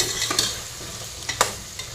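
Capsicum and carrot pieces sautéed in a hot pan give a brief burst of dense sizzling with a couple of scraping stir strokes, close and fairly loud over about two seconds.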